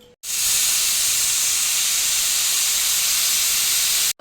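A pressure cooker of mixed grains and pulses vents with a loud, steady whistling hiss of escaping steam, one continuous blast lasting about four seconds that starts and stops abruptly, close by and with no talk.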